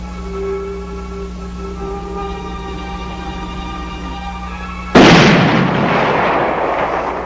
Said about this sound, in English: Fire the signal cannon!